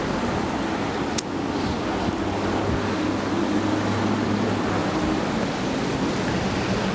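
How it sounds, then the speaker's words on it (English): Road traffic on US 31 heard from a railroad bridge over the Wabash River in Peru, Indiana, a steady distant wash of tire and engine noise with wind across the microphone. "Traffic you hear is on US 31."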